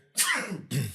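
A single sharp sneeze bursts out close by, followed by a brief second burst of breath.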